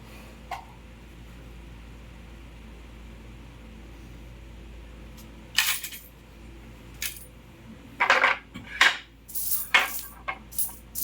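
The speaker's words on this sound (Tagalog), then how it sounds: "Nagkalat yung barya." Coins spill from a savings bank opened after ten months and are handled, with scattered sharp metallic clinks and jingles in bursts over a quiet room, growing busier toward the end.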